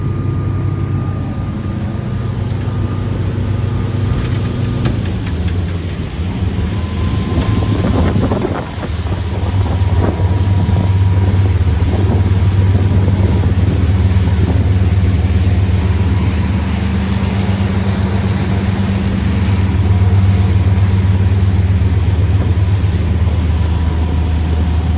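A Jeanneau Leader 805 boat with a Volvo Penta D4 260HP diesel runs at speed around 3700 RPM, giving a loud, steady engine drone mixed with wind buffeting and water rush, with no talk.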